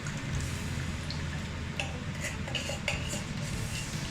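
Coconut milk poured into a pot of Bicol Express with green and red peppers, giving a soft liquid splash and trickle, then light clinks of a utensil against the pot, all close and fairly quiet.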